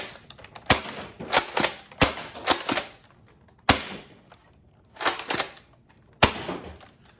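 Sharp plastic clacks and snaps from an Adventure Force Conquest Pro foam blaster as its magazine is handled and drops out, a series of close, irregular clicks separated by short quiet gaps.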